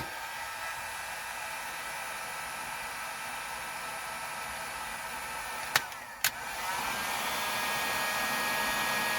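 A heat gun runs steadily near the dashboard of a 1982 Mercedes 300SD during a radio install, a constant close blowing whoosh with two brief clicks partway through, no talk.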